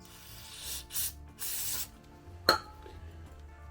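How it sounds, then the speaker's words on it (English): Brake cleaner sprayed onto a brake caliper during a junkyard big-brake upgrade on a 1994-2000 Toyota RAV4, heard as two separate hissing bursts of about half a second each, followed by a sharp metallic clink, with no talking. "Any powder coat left on there, clean that out with brake clean."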